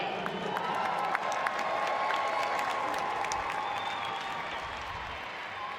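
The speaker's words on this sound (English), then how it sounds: "Local Verdoya getting a great round of applause." A stadium crowd at a Seattle Reign FC versus Boston Breakers women's soccer match gives a steady round of applause as a local substitute enters the game, with broad, sustained clapping and cheering at even loudness.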